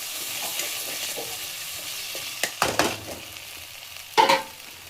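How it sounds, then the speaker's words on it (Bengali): Spice masala with whole garam masala sautéing in a pan: a steady, close sizzle carries throughout, broken by a few sharp scraping stirs near the middle and one louder stir near the end. "মশলাটাকে ভালো করে কষিয়ে নেব।"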